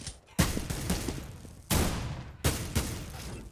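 Three sharp bursts of rifle fire land in a Counter-Strike match on de_inferno, each a loud, abrupt crack trailing into a short noisy decay, spaced unevenly across a few seconds.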